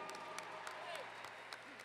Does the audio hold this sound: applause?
yes